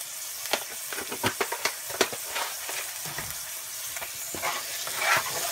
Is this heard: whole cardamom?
yes